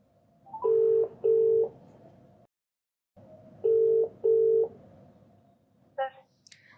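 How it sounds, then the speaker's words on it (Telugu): A telephone placing a call: paired steady ringback tones repeat twice with a short gap between the pairs, close and clear over faint background hiss, followed by a brief click as the line connects. "ఒకసారి కాల్ చేస్తానండి"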